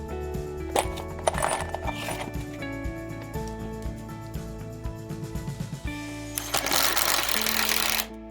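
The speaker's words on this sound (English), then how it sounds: "we're using the same exact concrete screw and using a regular metal blade that is commonly sold in stores" Oscillating multi-tool fitted with an ordinary store-bought metal blade cuts into a concrete screw, a steady buzzing drone with rhythmic chattering pulses, rising to a harsher, brighter grinding burst near the end.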